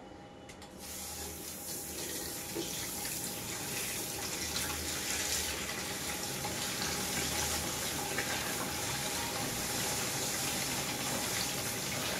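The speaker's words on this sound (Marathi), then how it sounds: "आता हे जे मिठात मुरवून ठेवलेलं कारलं आहे ना ते आपण पाण्याने स्वच्छ धुवून घेऊया" Salted bitter gourd being rinsed under a running kitchen tap, a steady broadband rush of water pouring and splashing into a sink, continuous and close for the whole stretch with no talking.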